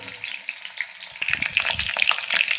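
Chicken pakoras fry in a pan of hot oil while being flipped. A soft background hiss swells into a dense, close crackling sizzle with small spatters.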